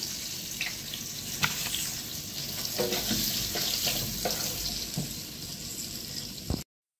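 Breaded chicken cutlets fry in hot oil with a continuous crackling sizzle, punctuated by scattered clinks and scrapes of a utensil, before the sound cuts off abruptly.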